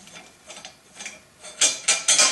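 Retaining bolts come off the upper mount of a Volvo S70 2.4T engine with a run of faint ratcheting ticks, then three louder, sharper bursts of clicking near the end.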